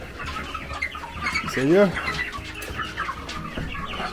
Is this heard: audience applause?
no